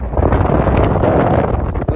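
Strong night wind in Dubai buffets the microphone in loud, continuous roaring gusts with low rumbling throughout, no clear speech audible.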